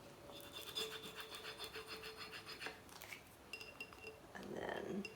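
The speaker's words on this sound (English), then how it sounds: "cut off some ab tape and then burnish that side down" Tape being rubbed firmly down onto glass during an etching job, a faint close series of scraping and squeaking rubs with light clinks, ending in a brief louder scrape.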